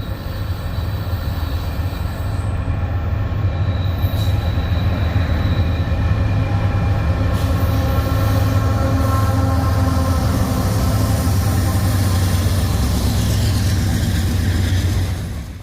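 A 10,100-foot-long Norfolk Southern freight train rumbles past steadily on the Winston-Salem District, a continuous loud roar of wheels and cars with faint metallic squeals, no voices.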